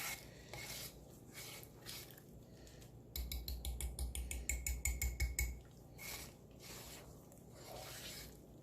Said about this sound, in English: this calls for a little elbow grease here at the end to get everything mixed up in there